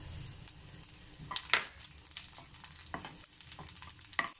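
Oil crackles and sizzles steadily as cumin seeds are stirred in a hot pan, with a few sharper spatters and scrapes standing out.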